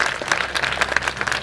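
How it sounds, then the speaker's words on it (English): An outdoor audience at a bus rapid transit ribbon-cutting in Richmond claps steadily, moderately loud and close, a short continuous burst of applause. "That's a round of applause"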